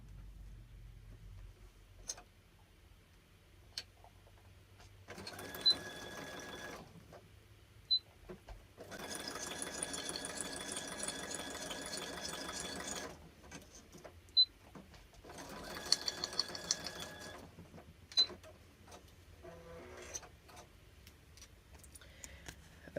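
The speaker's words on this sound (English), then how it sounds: "you're going to hear the sewing machine this time." A home sewing machine stitches a journal tag in three distinct bursts of fast whirring, with quiet gaps, faint clicks and ticks between them, close and alone.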